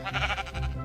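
Minecraft sheep bleating, a single short, close, loud bleat in the video game with no talk over it.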